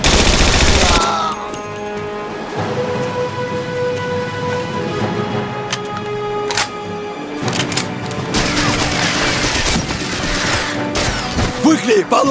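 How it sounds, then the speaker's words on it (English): A machine gun post fires in the Stalingrad combat game Battlestrike: Shadow of Stalingrad, pouring out loud, continuous bursts that mix with crashes and booms, very close and dense through the whole stretch. "there's a machine gun post ahead"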